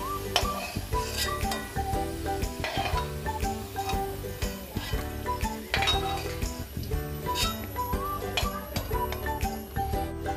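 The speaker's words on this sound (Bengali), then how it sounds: "আমি যে পাত্রে ডিমগুলোকে ভেজে নামিয়ে নিয়েছি, সেই পাত্রেই আমি আলুগুলো নামিয়ে নিচ্ছি।" Metal utensils clink and scrape against cookware as fried potatoes are moved into a pot for an egg curry, with rapid, repeated close clatter throughout.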